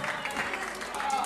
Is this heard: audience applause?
yes